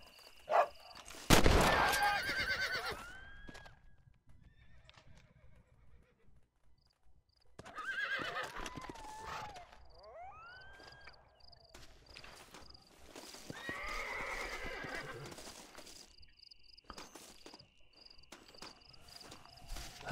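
A horse in the Western video game Red Dead Redemption gives a loud, close whinny, then later snorts and neighs more softly, with clip-clopping hooves and a steady chirp of crickets in the background.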